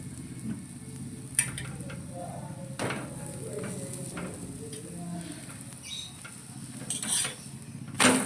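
Methi paratha being turned and stirred in a hot pan, with soft scraping and a faint sizzle running steadily throughout, plus a few light utensil clicks near the end.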